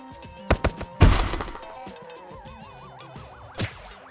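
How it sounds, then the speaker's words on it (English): In a physics platformer video game, cylinders are fired at enemies: a few sharp thuds and a loud impact burst ring into a warbling tonal decay, then one more hit follows, all over faint game music. "Now I'm shooting cylinders at my enemies"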